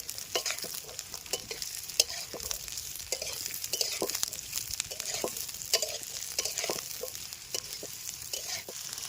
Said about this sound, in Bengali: গাজরগুলো ভেজে নেবো।